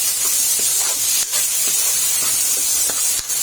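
Tomato paste sizzles while sautéing for caldereta: a loud, constant hissing fry that fills the whole stretch, with a few faint taps and no voices.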